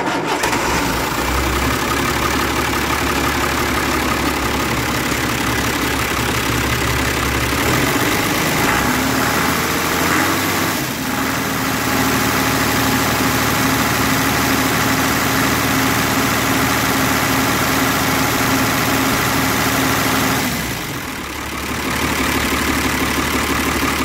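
A John Deere 3140 tractor engine cranks, catches and starts, then settles into a steady, loud idle close by, with a brief change in tone partway through and no talking.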